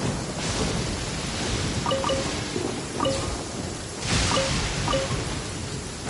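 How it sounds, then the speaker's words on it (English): Heavy rain hisses steadily while low thunder rumbles in slow swells, with faint bird-like chirps dotted through the downpour, in the video game Genshin Impact. "Taking a stroll in the middle of a downpour certainly rouses the spirit."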